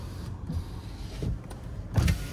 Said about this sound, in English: Do have power windows. Driver's side.